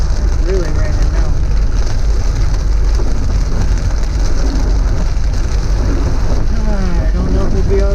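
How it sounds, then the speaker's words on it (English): Steady heavy rain in Pagadian City, Mindanao, drums on a surface nearby, a dense continuous hiss with low rumble underneath, constant and loud throughout. "It's really raining now."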